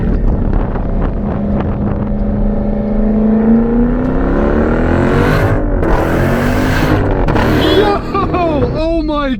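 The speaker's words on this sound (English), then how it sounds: "in first gear, you can floor it, and it does not spin whatsoever." A supercharged V8 Jeep Trackhawk accelerates at full throttle in first gear, its loud engine note rising steadily in pitch toward redline with heavy wind rush, then briefly dropping as a shift begins.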